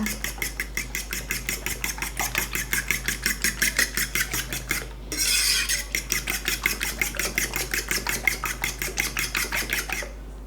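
Eggs with fish sauce, seasoning sauce and ground pepper are whisked for a puffy pot-fried Thai omelette: quick, steady clinks of a utensil beating against a bowl, briefly pausing midway before the rhythmic tapping resumes.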